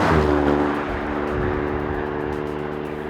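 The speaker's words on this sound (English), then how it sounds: "That's the turbocharged 3-litre V6 engine I spoke about earlier." Turbocharged 3-litre V6 of an Alfa Romeo Stelvio Quadrifoglio SUV revving hard, a loud, close engine roar that peaks early and then holds a steady, throaty drone with no talk over it.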